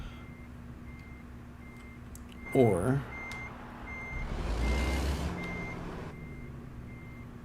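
Beeping alert in American Truck Simulator, a short rapid burst of electronic beeps at moderate volume, followed by a swell of truck engine and air noise, with a brief spoken word.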